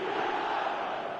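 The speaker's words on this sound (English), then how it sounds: "the crowd are reacting to that now" Crowd noise from an eFootball video game football match, a steady, dense roar of massed voices held at an even level without pause.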